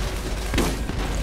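A grenade goes off in the video game Borderlands, a single dull boom in the middle of a short stretch of steady game background noise.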